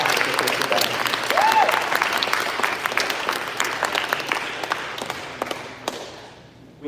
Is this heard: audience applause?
yes